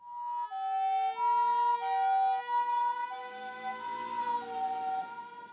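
An ambulance siren during a rescue evacuation wails in a steady two-tone pattern, loud and near, alternating high and low pitches repeatedly with no talk over it.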